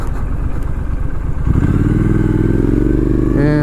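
A 2018 Triumph Street Scrambler rides along a quiet, empty road, its engine a loud, steady drone close by with wind rush, the pitch rising slightly near the end as it picks up speed.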